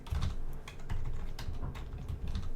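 Fingers type a short burst on a computer keyboard, the keys clicking close and fast in an even, continuous patter with no voices.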